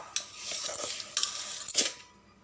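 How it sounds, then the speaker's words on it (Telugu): A spoon mixes semolina with curd in a bowl, giving a few soft scraping, clinking strokes close up. The mixing then fades to quiet. "రవ్వకి ఒక కప్పు పెరుగు పోసి బాగా కలిసేలాగా కలపాలి"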